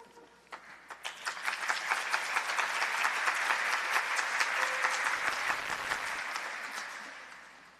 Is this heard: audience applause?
yes